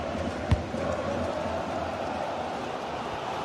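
A football video game crowd keeps up a continuous, fairly faint roar and murmur of supporters urging their team on, with one brief dull thump near the start.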